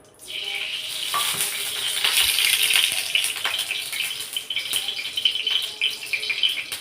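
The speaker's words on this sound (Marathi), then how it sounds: "तव्यामध्ये मी तेल वतून घेते" Oil poured into a hot tawa for a tomato chutney sets off a loud, rising sizzle and crackle that holds steady, with small spits and pops, close by and without talk.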